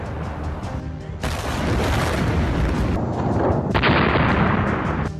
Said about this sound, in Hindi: और लगातार ब्लास्ट की आवाज।